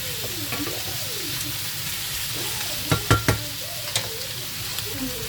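Meat for quick tacos sizzles steadily in a hot pan, a constant close frying hiss with a cluster of sharp utensil clacks near the middle and a few lighter taps afterward.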